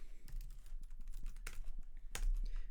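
Keys clatter softly on a computer keyboard during Laravel coding, light irregular clicks with a few sharper presses over a quiet room hum.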